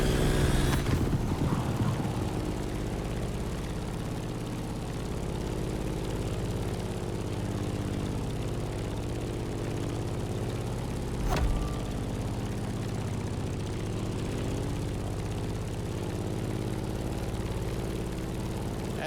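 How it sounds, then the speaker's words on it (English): A Grumman F8F Bearcat propeller fighter drones steadily in flight inside the video game The Crew Motorfest, a continuous low engine hum with a brief click partway through and no voices. "In the cockpit of a stunning GRUMMAN F8F BEARCAT, or simply the Bear."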